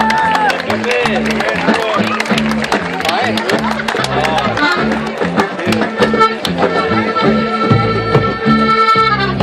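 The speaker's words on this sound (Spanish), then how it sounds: "Fuerte el aplauso para él, por favor." A festival crowd applauds the bass player during a band introduction, with clapping and cheers over ongoing music and a loud, busy mix of voices throughout.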